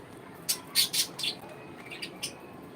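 Several short, sharp squawks and chirps from parrots and mynahs in quick succession on a balcony, fairly close, then a few fainter calls trailing off over a quiet background.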